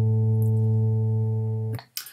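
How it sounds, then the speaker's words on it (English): An additive synthesizer patch built in Max MSP plays a steady organ-like tone, one sustained chord of stacked harmonics lasting nearly two seconds before cutting off, followed by a brief noisy click. "additive synthesis is quite good for doing kind of organ type sounds like this."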